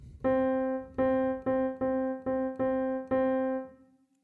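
A piano plays a single repeated note in an eighth-note jazz rhythm. Seven crisp struck notes each decay quickly, loud and close, with no voices.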